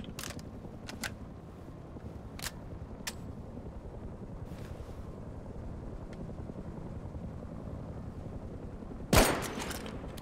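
A helicopter takes off in the video game Rust, its faint, low rotor drone running steadily in the distance. Sharp, scattered bangs punctuate it, and one loud crack comes near the end.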